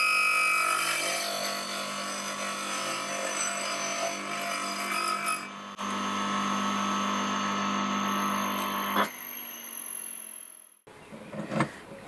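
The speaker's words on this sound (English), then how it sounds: "feed this into the sanding disc and see how it" A sanding disc grinds the coated end of an old steel girder, a loud sustained whine with shifting tones that steps down mid-way, then cuts off and leaves faint scraping handling noises.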